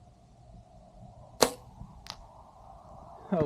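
Arrows loosed from a hunting bow at a target 50 yards away, a sharp snap of release followed by a thinner distant thwack, then another sharp crack near the end, over quiet outdoor background.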